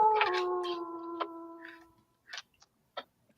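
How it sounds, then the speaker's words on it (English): A wolf howl sound effect plays during a tabletop role-playing session: one sustained, steady tone holds for about two seconds and fades, followed by a few faint clicks. "as you guys hear wolves approaching"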